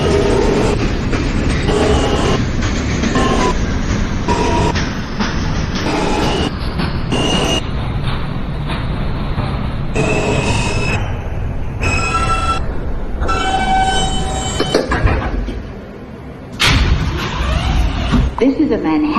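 A Manhattan-bound New York City subway J local train runs loudly, its rumbling roar broken by clattering, rhythmic wheel noise and squeals, with a brief dip near the end and a voice heard over the din.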